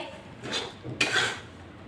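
A utensil scrapes and stirs gram flour roasting in a wok, producing two short scraping strokes, the second sharper with a light metallic clink, fairly close with no talking.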